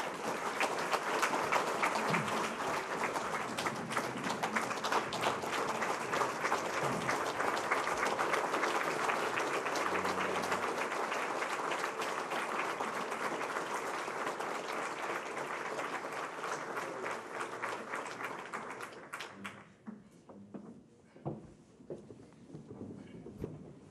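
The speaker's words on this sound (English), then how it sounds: "Round of applause, everyone." An audience at a scouting awards ceremony applauds, a long sustained round of dense clapping that holds steady for nearly twenty seconds before dying away into scattered claps and room noise.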